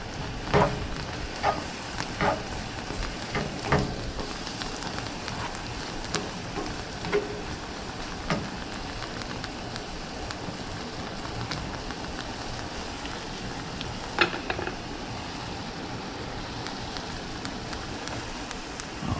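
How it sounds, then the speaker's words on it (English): Calamari and vegetables frying in butter in a pan, a steady crackling sizzle with scattered louder pops and occasional stirring scrapes, close and continuous, no voices. "Just heating this up in the butter."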